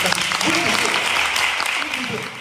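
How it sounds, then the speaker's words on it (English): Audience applause at a six-candidate Democratic political forum, steady clapping filling the whole stretch with voices mixed in. "Clap your hands to that."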